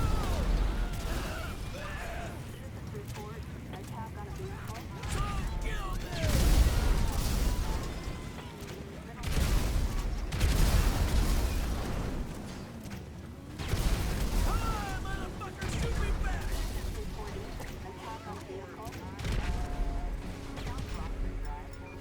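Explosions and gunfire in an open-world action video game played on an Asus ROG Strix G15 laptop, with repeated deep booms and bursts over a low rumble while someone talks over the action.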